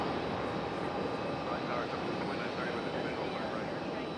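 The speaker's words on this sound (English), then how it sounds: "almost touching down in the right spot. There's our little A319." A small Airbus A319 airliner touching down on the runway at Raleigh-Durham International Airport, a steady broad engine roar with no clear pause or change, heard from a distance with a person talking briefly over it.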